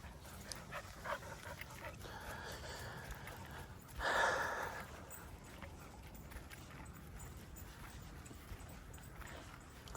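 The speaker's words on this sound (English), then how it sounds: "Did we lose a dog? Oh, no, there he is." A white dog moves about and pants outdoors beside a small murky pond, with one louder burst of breathing midway over faint outdoor background noise.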